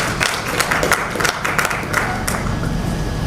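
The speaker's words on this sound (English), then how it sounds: "please can you give yourselves another round of applause" Scattered clapping from an audience at a tech conference session, a loose round of hand claps with uneven rhythm over a low background murmur.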